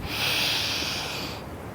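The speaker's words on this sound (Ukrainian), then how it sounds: "Видих." A single long, audible exhale through the nose or mouth during a yoga sun salutation, rising quickly and then fading over about a second, close and breathy with no talk.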